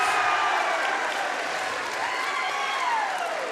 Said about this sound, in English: That was a huge ovation for a free throw.